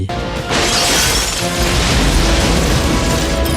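A large fuel explosion fireball from the film Con Air, starting with a sharp shattering burst and swelling into a loud, continuous roaring blast that fills the whole stretch.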